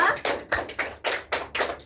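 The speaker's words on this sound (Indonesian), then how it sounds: "tepuk tangan untuk Mbak Cherry ya" A small classroom group claps briefly in about seven distinct, loosely synchronized bursts, close and fairly loud, with no talking over it.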